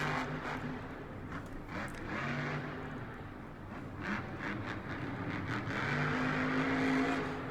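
Monster truck engine revving at a Monster Jam event in Detroit, a loud rumbling roar that swells and dips with crowd-filled arena noise, building toward a jump.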